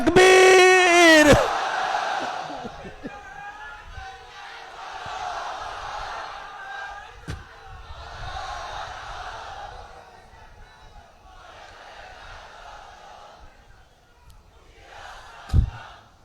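A large religious gathering in Chattogram answers a call with repeated crowd chanting of takbir, several rolling waves of voices following a single leading shout, with a sharp burst near the end.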